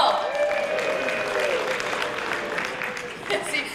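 Comedy club audience applauding, a crowd clapping at moderate volume under a voice speaking over it, with a small burst of claps near the end.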